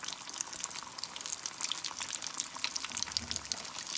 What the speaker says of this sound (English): We're gonna fry them until they have a nice golden color on both sides, and they will be ready.